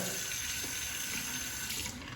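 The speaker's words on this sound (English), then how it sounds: "I'll temper it under the hot water." Hot water runs steadily from a tap over a razor, a constant close hiss and splash with no voices.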